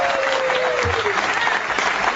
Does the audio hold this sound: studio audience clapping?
yes